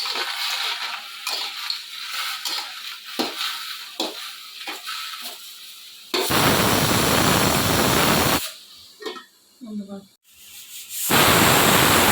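Onions and hinche greens cook in a pan with a little added water, giving loud bursts of steamy hissing sizzle alternating with quieter stretches of soft frying and stirring.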